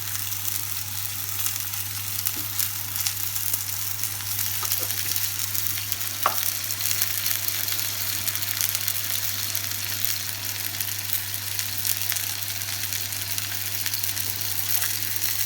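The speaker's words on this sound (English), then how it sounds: "While this is frying now," Steady frying sizzle of doner kebab meat in a pan fills the clip, a constant crackling hiss with a low hum underneath and no voices.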